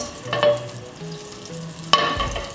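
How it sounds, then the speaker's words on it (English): Butter browning in a pan, a steady soft sizzle and crackle with occasional scraping as the pan is swirled, close and clear with no talking. "I'll just kind of swirl it around in the pan to help it along"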